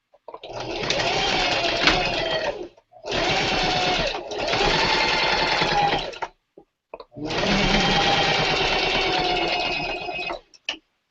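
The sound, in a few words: sewing machine stitching a 5/8 inch seam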